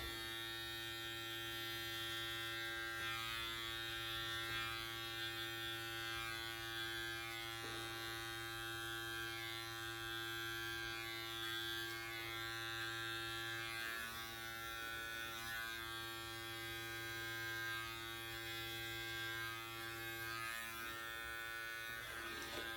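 An electric beard trimmer fitted with a 3/8 inch guard hums and buzzes steadily while cutting a beard, close and continuous with slight pitch changes and no voices.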